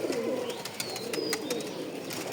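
Fancy pigeons coo softly in low, rolling calls, close by, with faint chirps and scattered clicks in the background and no talk.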